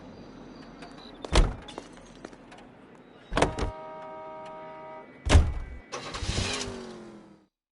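A car in L.A. Noire: a door thunk and an engine starting, then a second door slam and the engine revving up as the car pulls away, all fairly quiet.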